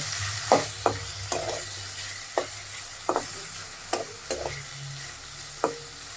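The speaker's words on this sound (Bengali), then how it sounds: "অল্প একটু তেল দিয়ে দিব তার সাথে সেই যে সিদ্ধ করা সিম এটা আমি দিয়ে দিব এই সিমটা এখন আমি একটু ভেজে নেব" Boiled flat beans fry in a little oil, a steady close sizzling hiss broken by sharp stirring scrapes and taps every second or so, with no voices.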